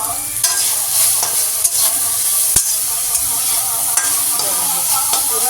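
A spoon stirs turmeric in a hot pan before mixed arhar and mung dal goes in, with a constant close sizzle of frying and sharp scraping taps against the pan.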